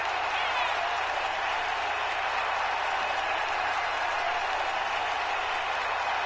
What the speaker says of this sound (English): Get on your feet and applaud